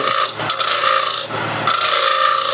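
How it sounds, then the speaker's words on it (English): A hand scraper tilted on its side scrapes the rim of a wooden bowl in steady, close rasping strokes with brief pauses between passes. "raise the scraper up on its side. I just get much better finish from the scraper."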